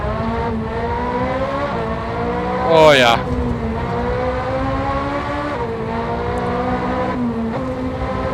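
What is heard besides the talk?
video game Ferrari engine revving, downshifting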